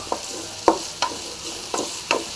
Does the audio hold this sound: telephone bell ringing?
no